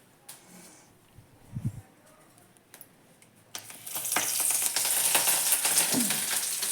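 Oil begins sizzling in a pan while paddu batter roasts, starting with a few faint knocks and clinks, then swelling into a steady, bright frying hiss that carries on to the end.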